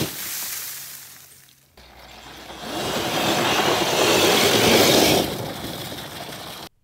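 Homemade 50-horsepower electric quad ridden outdoors, a steady broadband whir and rush that swells louder as it passes close, then cuts off abruptly.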